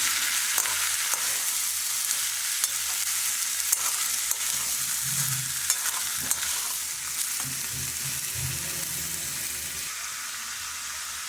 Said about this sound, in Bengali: মশলাগুলো দিয়ে কষে নেব